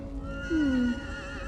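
A horse in Elder Scrolls Online, around Markarth, gives a single clear neigh with a falling whinny, loud over a steady game music and ambience bed.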